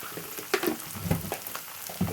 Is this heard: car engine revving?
no